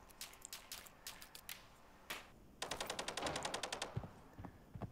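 Bursts of rapid automatic gunfire in Arena Breakout, scattered single shots first, then a fast sustained volley, fairly distant and crackling.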